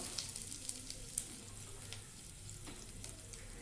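Whole spices and a piece of cinnamon sizzling in hot oil in a pan, a soft, steady crackle with small pops, fairly faint and with no voices.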